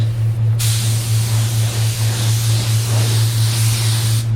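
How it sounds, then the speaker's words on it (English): Spray gun misting water-based white paint in a steady, continuous hiss that kicks in after a brief quieter start and holds evenly, close and loud, with no talking. "so I can get somewhat of a uniform, consistent spray in here."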